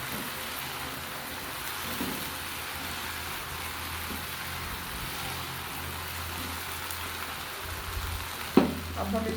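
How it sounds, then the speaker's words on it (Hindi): Potato, onion, tomato and garlic fry in a pan over a low flame with a steady, soft sizzle, close by, and a brief clink of a utensil near the end. "5 से 6 मिनट के लिए पकाएंगे, ताकि आलू और प्याज टमाटर अच्छे से सॉफ्ट हो जाए।"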